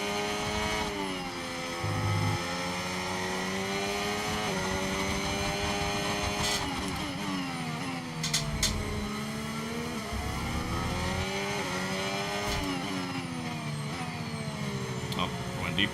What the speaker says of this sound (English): I think what you're hearing when I step on the brakes is me downshifting